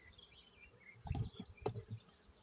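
A Carniolan honeybee colony packed across ten hive frames gives off a faint, low buzzing hum, swelling in two louder close bursts partway through.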